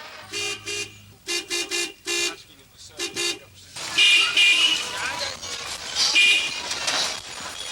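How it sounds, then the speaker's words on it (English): Car horns toot repeatedly in dense Chengdu street traffic in China, a run of short, loud honks in bursts that gives way to a continuous roar of traffic with more horns sounding over it. "I never heard of so many horns in all my life"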